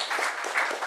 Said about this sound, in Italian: complimenti Matteo, un applauso anche a te